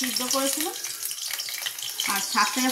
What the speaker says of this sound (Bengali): চলো এই রসুনটা ভাজা ভাজা হয়ে আসছে